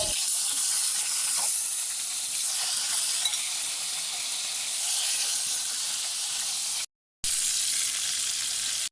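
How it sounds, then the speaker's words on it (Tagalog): Eggplant sizzles steadily in hot oil in a pan, a loud, continuous broadband hiss that runs unbroken apart from one brief dropout near the end. "ilalagay na natin yung eggplant natin. Ipiprito natin yan ng 5 minutes"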